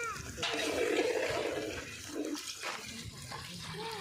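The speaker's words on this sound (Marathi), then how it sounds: "थोडं थोडं करून आपल्याला यामध्ये पाणी ॲड करून घ्यायचं आहे" Water is poured bit by bit into a pot of mutton cooking outdoors, giving close splashing and gurgling pours in uneven bursts while people talk nearby.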